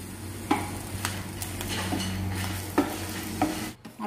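A spoon scrapes and stirs coriander seeds and dried chillies dry-roasting in a pan for Palakkad-style sambar, with soft sizzling and several distinct scraping strokes close up, no talk.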